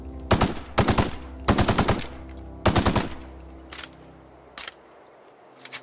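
Rifle gunfire from the video game The Outer Worlds: several rapid bursts of loud automatic shots in quick succession, followed by a few sparser single shots and clicks, all close and sharp with no talk over them.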